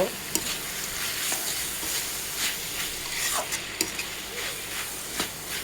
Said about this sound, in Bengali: এখন সসটা দিয়ে একটু নেড়ে চেড়ে নিব।